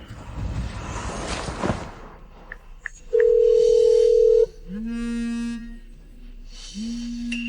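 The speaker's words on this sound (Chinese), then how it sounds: "阿宇，你快打电话叫他过来" A telephone tone sounds during a call, first a single sustained beep and then two repeated lower ringback tones, clear and close after some muffled background noise.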